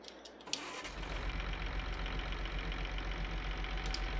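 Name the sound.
Rakovica tractor engine starting in the video game Farming Simulator 22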